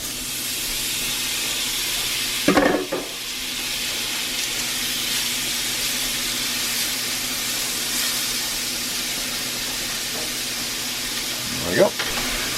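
Stew meat frying in oil in a cast iron pan gives off a steady, loud hiss and sizzle that runs throughout, broken by two brief louder clatters near the start and end.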